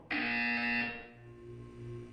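A loud electronic buzzer from the Portal video game sounds once, a sustained harsh tone lasting under a second before cutting off, followed by quieter background hum.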